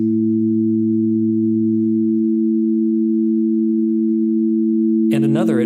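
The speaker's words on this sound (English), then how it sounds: "Here is a tone with a 220 Hz fundamental, and here is one with a 330 Hz fundamental." Two steady pure sine tones, one at a 220 Hz fundamental and a second at 330 Hz, sounding together as a constant electronic hum; the lower tone drops out partway through, and a brief burst of sound cuts in at the very end.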